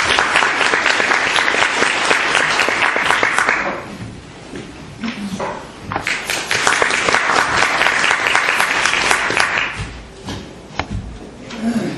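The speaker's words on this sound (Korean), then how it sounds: "다시 한번 뜨거운 박수 부탁드리겠습니다." A seminar audience on Korean real estate finance applauds loudly, the clapping dense and sustained, dipping briefly in the middle before swelling again and tapering at the end.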